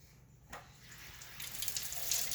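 Fresh blueberries are rinsed under running tap water in a kitchen, a soft steady splashing stream that grows slightly louder and brighter toward the end, with no talking.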